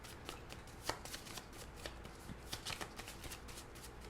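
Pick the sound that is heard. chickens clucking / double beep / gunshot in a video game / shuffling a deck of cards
shuffling a deck of cards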